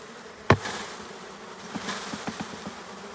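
Honeybees hum faintly near the microphone at a hive entrance while a nuc is installed, with a sharp knock early on and a few soft ticks scattered through the low, steady buzz.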